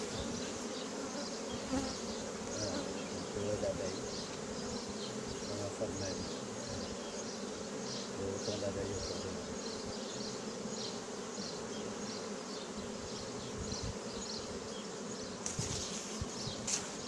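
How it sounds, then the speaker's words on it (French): A captured natural swarm of honey bees near Soignolles-en-Brie buzzes in a dense, continuous drone close by, steady and unbroken for the whole stretch with faint rustling now and then. "c'est la première fois que je suis aussi près que des abeilles comme ça"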